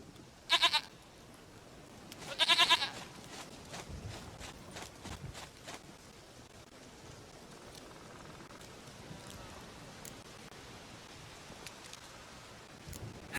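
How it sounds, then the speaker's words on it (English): Goat bleating in The Witcher 3, two short nasal bleats close together early on, followed by soft footsteps and quiet ambient game noise. "Goat of mine! Dearest, sweetest goat!"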